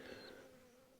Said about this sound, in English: A bee there on the flowers.